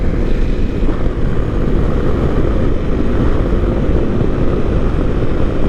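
A Honda CRF 250 Rally dual sport motorcycle drones steadily while being ridden. Its engine hum and road or wind rumble stay close and constant, with no voices over it.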